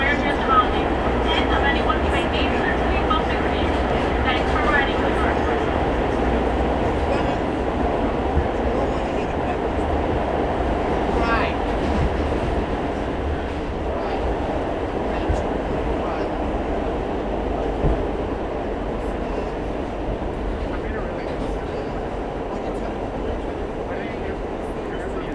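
A New York City N subway train rides from Manhattan toward Astoria, Queens, with a steady loud rumble and rattling wheels heard from inside the car, and faint talk underneath.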